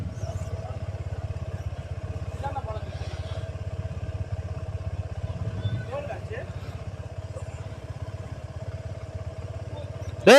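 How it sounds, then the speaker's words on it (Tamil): A Suzuki V-Strom 250 motorcycle idles to warm up with a steady, low, even engine thrum throughout, some faint clatter and voices in the background, and a brief louder burst at the very end. "வண்டி கொஞ்சம் 1 நேரம் வார்ம் அப் ஆகட்டும்."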